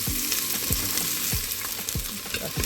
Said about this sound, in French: Je vais faire revenir mes oignons à l'intérieur.